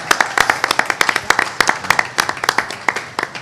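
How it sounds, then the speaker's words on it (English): Audience applauding the chefs at a university tri-campus cooking competition, a dense burst of many hands clapping, loud and close, with sharp individual claps standing out throughout. "let's give a round of applause, ladies and gentlemen"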